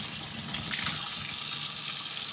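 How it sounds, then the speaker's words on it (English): Tap water streams steadily into an opened can of black beans held under a lid, a continuous broadband rush of running water close by with no talking. "Let the water run inside a little bit."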